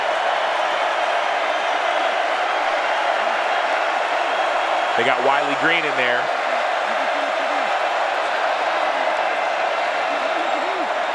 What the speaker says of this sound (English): You hear the crowd in it.